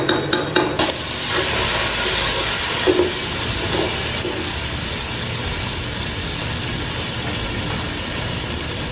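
Onions fry in hot oil with cumin, ginger-garlic paste, dried coriander and cumin powder, giving a loud, continuous sizzle with a few clinks of stirring at the start.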